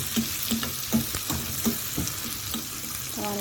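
Minced garlic frying in hot butter gives a steady sizzle, with rhythmic scraping and clinks of a spoon stirring the pan throughout.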